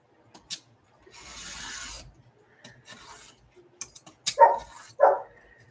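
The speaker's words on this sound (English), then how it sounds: "I gotta let Mr. Demanding Doggy in." A dog barks twice in quick succession near the end, demanding to be let in, close and fairly loud after scattered scraping and rubbing sounds from crafting with paper file folders.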